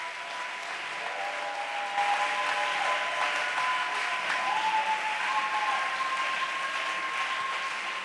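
A church congregation applauds with sustained, dense clapping for the whole stretch, while faint held musical tones sit underneath.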